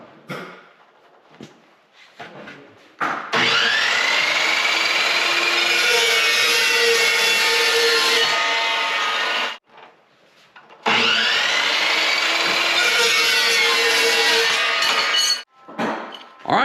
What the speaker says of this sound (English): This chop saw absolutely increases productivity.